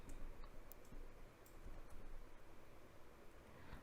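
Small, dry clicks of a computer mouse in film editing software, a few sparse taps over a quiet hiss of room noise with no voice.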